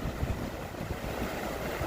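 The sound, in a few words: strong wind outdoors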